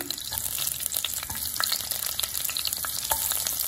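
Garlic and onion sizzle steadily in a hot pan for a Filipino meatball sinigang, a dense continuous crackle with occasional stirring scrapes and pops, close and fairly loud with no talking.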